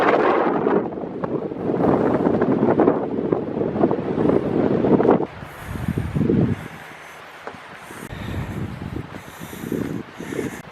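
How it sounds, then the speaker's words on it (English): Strong wind buffets the microphone at Fort Flagler, a loud, steady roar for about five seconds, then easing into gentler gusts with quieter gaps and faint rustling. "And it is windy."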